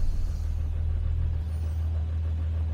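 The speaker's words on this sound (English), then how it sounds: "Just gave it a little bit of throttle right there, and it's on choke." A cold 1966 Jaguar S-Type engine idles on choke just after a blip of throttle, giving a steady, loud, low rumble heard up close with no voices.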